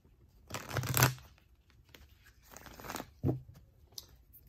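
Tarot cards are shuffled and handled up close, with two bursts of papery riffling and rustling, a sharper snap, and a quiet tap toward the end.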